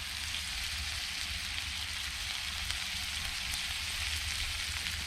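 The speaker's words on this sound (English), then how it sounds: "Sizzle, sizzle." Chicken and onions frying in a pan outdoors at a sea fishing spot at East Halton, giving a steady, close hiss and crackle that holds evenly throughout with no talk.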